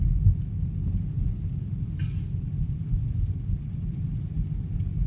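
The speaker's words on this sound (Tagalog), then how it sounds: "malakas ang ulan" Storm rain falls in a steady low roar during a typhoon in the Philippines, a constant rumbling wash with one brief brighter splash, with no voices.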